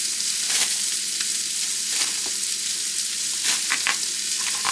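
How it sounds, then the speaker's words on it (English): Sliced stir-fry steak sizzling in butter in a hot pan, a loud steady frying crackle with scattered sharper pops and spatters, close and continuous. "The next thing that I'm going to add in here is some steak"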